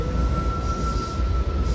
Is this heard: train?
yes